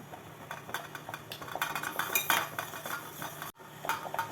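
A spoon stirs potato juice into melted soap base, giving a steady run of scraping swirls and light metallic clinks against the container. The sound is close and continuous, then stops for a moment before the stirring picks up again.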